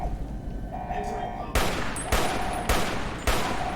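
Video game gun firing four loud, evenly spaced bursts, each a sharp broadband blast, over a steady electronic hum with faint talk at the start.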